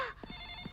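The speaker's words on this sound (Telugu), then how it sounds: "అదిగో డాడీ ఫోన్ చేసినట్టున్నాడు" A telephone rings at home: a steady electronic ringtone tone holds throughout, with a few soft knocks underneath and no voices.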